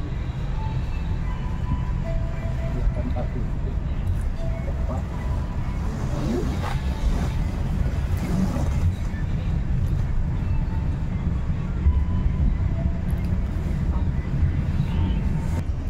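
Batu Raden Express passenger train running steadily along the rails, a continuous loud rumble with rolling low-frequency noise and occasional faint clanks throughout, with no talk.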